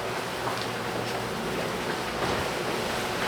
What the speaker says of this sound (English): The waves have picked up a little bit, so it's not quite as comfortable.